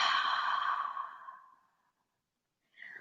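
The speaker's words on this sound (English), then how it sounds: "exhale out through the mouth" A person exhales slowly and audibly through the mouth during a vinyasa yoga breathing exercise. The breath is soft and airy and fades out over about a second and a half, then a faint second breath begins.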